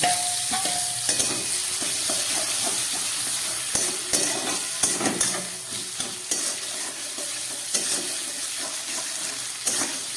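Half-fried onion sizzles in hot spiced oil with tomato and is stirred in a pan on medium heat, steady frying hiss broken by repeated close scraping and clatter of the spoon, no talking.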